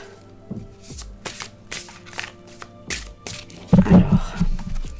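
A deck of cards being shuffled in quick riffling bursts, close and fairly quiet, with a louder flurry of card handling near the end and no talk.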